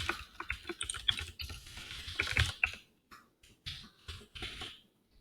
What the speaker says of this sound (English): Type in your login details.